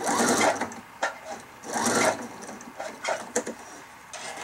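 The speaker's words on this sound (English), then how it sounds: "because this is our last side, I'm going to back stitch here as well" A sewing machine back-stitches along a quilt binding in short bursts of rapid mechanical whirring, separated by brief pauses and small clicks, fairly close and moderately quiet.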